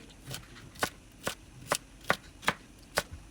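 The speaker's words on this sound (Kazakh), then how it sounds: "Ол горкі пересімізді дәл осылай кесіп," A knife cuts through hot chili pepper on a cutting board in a kitchen, seven or so crisp evenly spaced chops, close and clear, with no talking.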